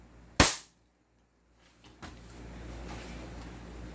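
An upgraded 2011 5.1 airsoft pistol fires a single sharp, loud shot during a chronograph test, followed by silence and then faint handling clicks and background noise.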